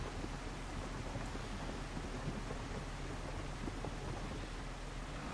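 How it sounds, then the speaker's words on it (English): Steady rain hisses with a low thunder rumble underneath in a December storm in the farming video game Farming Simulator 25, continuous and even throughout without any talk. "A good old job for us while it's raining in December."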